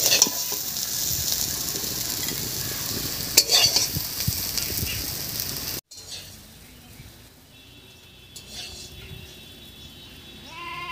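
Fried beans from a home kitchen sizzle and scrape with steady stirring, then a cut leads to a quieter stretch of faint pan noise and light clinks as the beans come off the heat.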